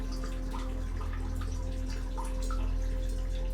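Water drips in a sculpture installation, soft scattered plinks over a steady hum and low background rumble, faint and irregular.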